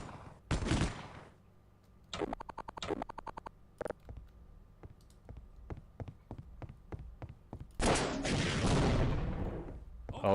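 Enemy gunfire in a shooter video game: loud single shots and quick bursts of rapid fire, interspersed with sharp ticking impacts, with heavier sustained blasts near the start and end.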